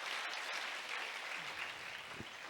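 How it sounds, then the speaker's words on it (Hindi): A church congregation at a Palm Sunday service claps together in a steady, even wash of applause, moderately distant and fairly soft. "जोरदार तालियां"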